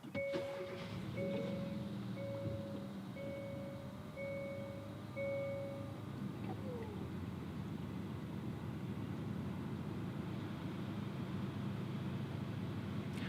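A 2019 Hyundai Kona Iron Man Special Edition starts with its push button: a series of evenly spaced electronic chime beeps runs for about six seconds over a steady, close engine idle hum that continues alone afterward.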